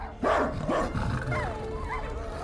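Cosmo the dog from the Guardians of the Galaxy video game gives a couple of sharp, close barks followed by whiny, yipping vocal sounds that slide up and down in pitch.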